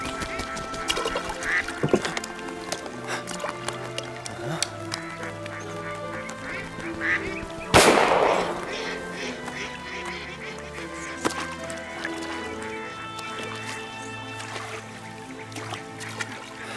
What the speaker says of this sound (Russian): Уплыла утка.